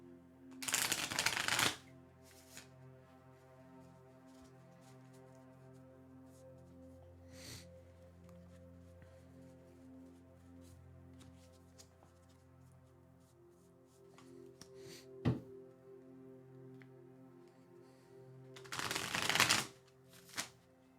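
Tarot cards from a Rider Waite Smith deck are riffled in two short, crisp bursts at the start and end, with quiet handling, taps and faint room hum in between.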